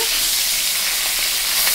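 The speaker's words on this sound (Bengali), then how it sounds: "এর ভিতরে আমার কাটা ভাজা কিন্তু হয়ে যাচ্ছে, দেখতেই পাচ্ছ।" Bhetki fish bones frying in a pan give a loud, steady sizzle with a bright, crackling hiss, heard up close for a short stretch with no voices.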